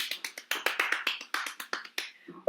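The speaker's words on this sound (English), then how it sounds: "Can you all show me an example of what clapping your hands looks like?" Children clap their hands at an opera workshop for toddlers, a quick run of about a dozen sharp, close claps with uneven rhythm, no talk.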